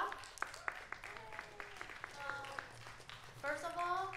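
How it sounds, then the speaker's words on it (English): Scattered clapping from a small audience at a music performance event, sparse individual claps heard under an overlapping speaking voice. "one more time, give a clap to Joanna"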